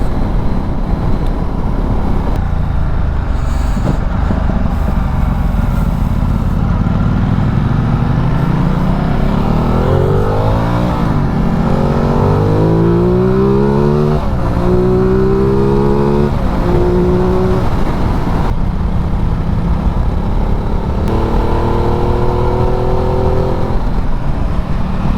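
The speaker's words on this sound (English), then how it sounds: "the cars are all going right" Steady engine roar from cars passing close by, with rising and falling pitch as vehicles accelerate and sweep past one after another.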